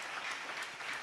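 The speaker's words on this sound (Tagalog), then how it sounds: "Palakpakan natin ng malakas na palakpak." A church congregation at a JMCIM preaching service breaks into loud applause, a dense, brief wash of many hands clapping together at once, fairly distant and roomy.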